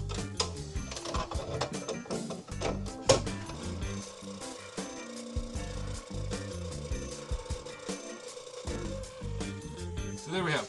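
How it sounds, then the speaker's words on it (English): A blade cuts a circle out of a flower planter with rough, uneven sawing and ratcheting scrapes, close up and fairly quiet, broken by short pauses between strokes. "I just have to put my blade in, cut most of the circle out."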